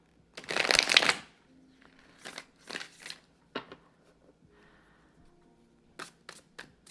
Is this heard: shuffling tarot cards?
yes